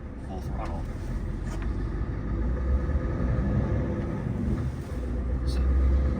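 Scania 770S semi truck with 770 horsepower, loaded to 80,000 pounds on an 8% incline, pulling under full throttle: a deep, steady low engine roar that swells slightly toward the end, heard from the cab.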